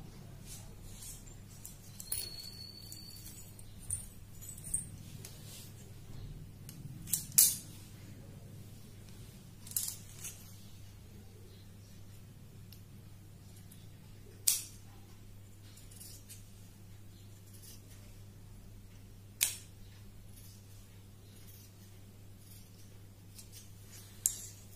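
Scissors cut through four folded layers of fabric for an umbrella-style long gown, with soft intermittent snips and sharp clicks spread over a quiet background hum.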